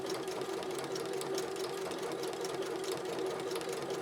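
A Janome 3160 QDC sewing machine runs steadily at speed, a smooth continuous whir with a fine rapid needle rhythm, close and even for the whole stretch with no talk.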